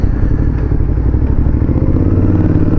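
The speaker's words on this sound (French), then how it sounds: "salut, super, ta moto, elle est chouette celle-là." A motorcycle rumbling by at close range, a loud, steady low engine drone with clattering mechanical texture throughout, no speech heard.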